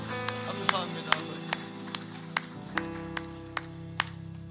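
A Korean church congregation at a Sunday worship service claps in a steady rhythm, about ten crisp claps at even intervals, over sustained keyboard tones.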